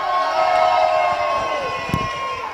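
A live studio audience cheers and shouts for the band on a late-night show, a dense steady crowd roar with a brief louder burst near the end.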